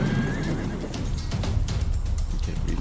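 Horse hitched to a carriage whinnying in the Grim Legends video game, a loud, shrill neigh rising over a continuous rumble of hooves and carriage noise, with no talking.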